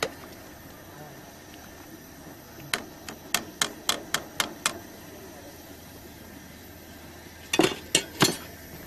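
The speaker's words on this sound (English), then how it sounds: "Let's take our pasta out, drain it carefully, into some more olive oil and pepper." Pasta being drained into a pan of olive oil and pepper, heard as a soft background hiss with a run of quick metallic clinks and taps, then a few louder clatters near the end, close by.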